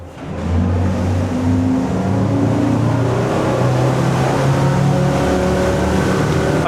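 Loud, steady roar of a Boston Whaler 330 Vantage's motorboat engines building in pitch as they accelerate past 20 knots, with continuous water and hull noise throughout.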